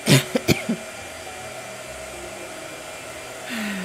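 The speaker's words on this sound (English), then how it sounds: "All right, blow dryer." Hair dryer blowing in a home art-painting session, a steady whooshing hum running most of the way after a few sharp knocks at the start, with a louder surge near the end.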